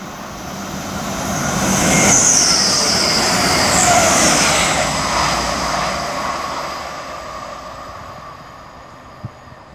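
Train 18106 pulls out of Peterborough on the East Coast Main Line bound for Sunderland, a loud rising roar and whine of engines and rolling wheels that builds, holds, then slowly fades away.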